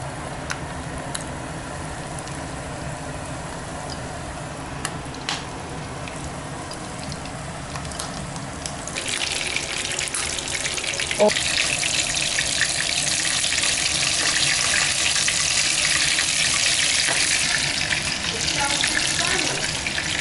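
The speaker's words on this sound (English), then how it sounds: "So I'm putting them in the hot olive oil now." Cooked clams dropped into hot olive oil, a soft steady hiss that swells into a louder, continuous sizzle halfway through, with a quiet voice underneath.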